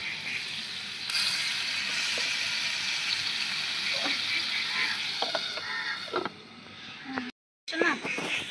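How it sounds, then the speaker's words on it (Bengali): Aloo kulcha, a potato-stuffed flatbread, frying in a pan: steady broadband sizzle with a few scraping clicks, close by, dropping out briefly near the end before resuming. "এই দেখুন কত সুন্দর কুলচা ভাজা হচ্ছে"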